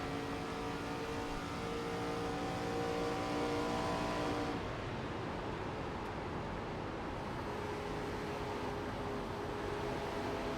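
A race car engine in an ARCA stock car racing game roars at full throttle, a constant loud drone whose tone shifts partway through as the car pulls away, steady and uninterrupted with no voices.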